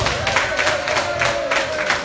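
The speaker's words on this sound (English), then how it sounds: "Please give them a good round of applause" A conference audience at a forum for African, Afro-Caribbean and Asian women in politics applauds steadily, a dense wash of clapping with a faint cheer or two, and no speech over it.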